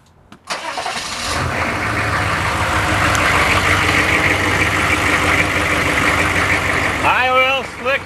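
An engine cranks and fires up on a boat dock by the water, then settles into a steady, loud idle that runs for several seconds, with a rising whine near the end.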